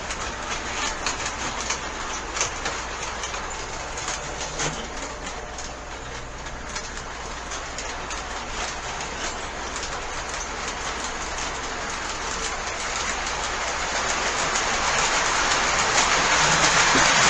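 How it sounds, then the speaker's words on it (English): A model train with several heavy cars, some die-cast, and a single powered unit runs along its track, a continuous close rattling clatter with rhythmic clicks that grows slightly louder toward the end. "Naturally, you knew I was going to run a train for you, right?"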